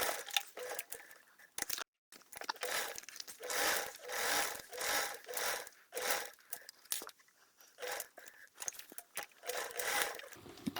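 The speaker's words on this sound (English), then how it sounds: "we're sewing along those lines that we drew" A sewing machine stitches fabric along drawn lines for a flap bag in quick, faint bursts of rapid mechanical chatter separated by brief pauses.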